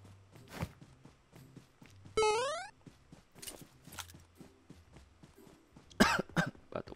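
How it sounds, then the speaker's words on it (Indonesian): A person coughs once or twice amid game sound effects during a PUBG Mobile session, with a sharp burst near the end over quieter background clicks and footsteps. "Batuk pula gue."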